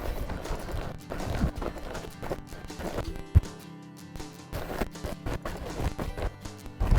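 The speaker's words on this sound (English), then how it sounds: "Make sure our horse lopes around just relaxed." A horse lopes around a derby arena at a relaxed, steady pace, hoofbeats thudding in an even rolling rhythm with a few sharper knocks, fairly close and alone.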